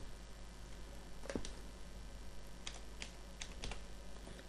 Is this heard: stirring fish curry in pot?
no